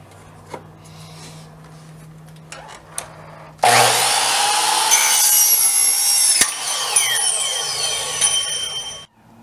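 A miter saw spins up and bites loudly through a 1-inch piece for an S10 turbo bracket, a sustained high whining cut of several seconds after quiet shop ambience, then winding down near the end.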